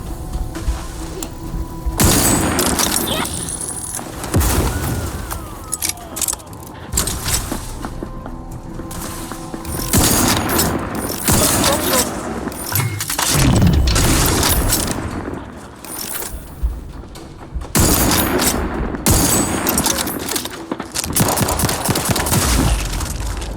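Sustained gunfire from The Outer Worlds 2 video game, dense bursts and volleys of shots with booms, repeating across the whole stretch at steady loud level with brief lulls between salvos.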